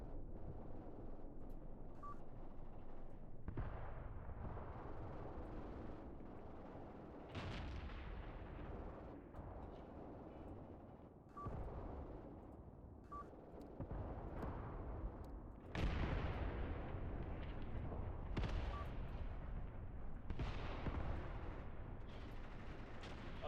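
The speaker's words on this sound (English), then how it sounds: "All this machine gun fire." Machine gun fire in the Graviteam Tactics war game: repeated sharp bursts and heavy booming shots, moderately loud, coming in irregular clusters over a constant rumbling battlefield background.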